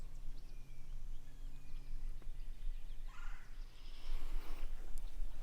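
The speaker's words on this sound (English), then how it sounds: "you can hear birds and other wildlife on both sides of me here." Birds and other wildlife in a swampy forest at Haw River State Park, North Carolina, with scattered calls, a gobbling fowl-like burst, and steady outdoor ambience, faint and moderately distant.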